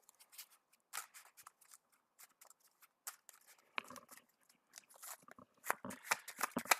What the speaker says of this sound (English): Just making sure our encounter deck gets a good old shuffle.